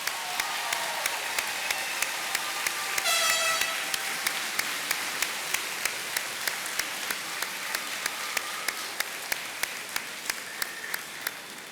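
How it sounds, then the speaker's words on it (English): A graduation-ceremony audience applauds the teachers with a sustained burst of many hands clapping, a steady hall-filling patter that swells briefly, with scattered louder claps standing out near the microphone. "let's give our teachers a nice round of applause"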